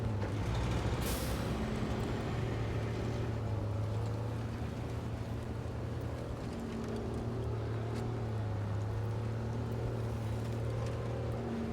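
Truck engine in the SnowRunner game revving with a low droning rumble and shifting tonal hum that rises and falls steadily, with a short hissing burst near the start, no voices.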